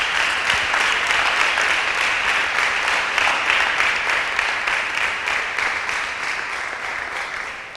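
A church congregation applauds during an evening service, a steady, full wash of many hands clapping together that holds for several seconds and then slowly tapers off near the end.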